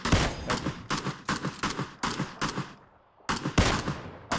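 Rifle gunfire in the video game PUBG, rapid bursts of loud close shots in quick strings with a short pause midway before more shots, no talking.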